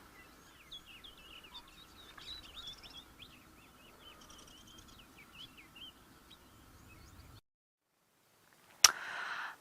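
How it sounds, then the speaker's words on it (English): A migrant shrike calling on safari, rapid scratchy chattering notes repeated in bursts over faint insect buzz, fairly distant, then a brief silence and one sharp loud click at the end. "that was the shrike from this morning"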